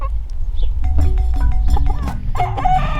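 A Silkie chicken clucks and crows close by, its short, rapid, scratchy calls repeating over a low background rumble.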